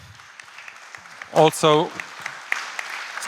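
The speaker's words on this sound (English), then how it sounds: "Give her applause" An audience at a youth peace event claps lightly, with scattered applause beneath and after a short burst of close speech.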